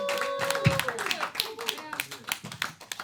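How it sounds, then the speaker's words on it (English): Sparse, scattered hand claps from a small live basement audience for performer Nicole Melnyk, with a speaking voice running over them throughout. "Keep clapping, keep clapping, keep clapping."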